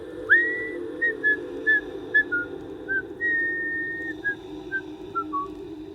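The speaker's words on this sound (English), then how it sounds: "He just kept digging and whistling the same short melody over and over." A man whistles a short melody alone, about a dozen clear notes with one longer held tone, over a low steady hum.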